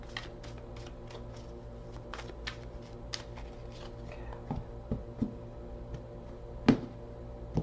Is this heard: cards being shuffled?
yes